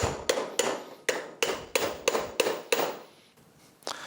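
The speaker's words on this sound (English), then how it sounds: "we're actually going to use a 21 millimeter to drive this one in" A 21 mm socket is hammered to drive a prop seal into a Mercury 40 HP outboard, with about nine sharp, evenly spaced metallic blows that each ring briefly. After a pause comes one softer final tap. The strikes are close and loud, with no speech.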